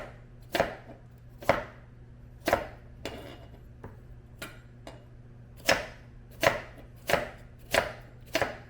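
A knife cuts food into diagonal slices on a cutting board, making about eight crisp, evenly spaced chops close by at a steady, unhurried pace. No one speaks.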